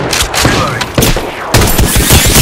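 Rapid bursts of gunfire in the battle royale video game Apex Legends, loud and dense, with repeated volleys and a heavier burst near the end, layered over muffled squad chatter.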